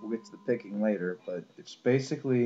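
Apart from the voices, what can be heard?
None of the usual background noises is heard.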